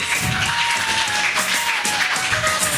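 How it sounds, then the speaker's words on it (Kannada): Schoolchildren at a scholarship event clap steadily in a dense, continuous patter that sounds fairly close and fills the space without pause. "ಮಕ್ಕಳು ಚಪ್ಪಾಳೆ ತಟ್ತಾ ಇರಿ"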